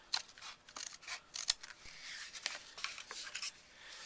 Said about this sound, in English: I'm just going to trim across the flaps.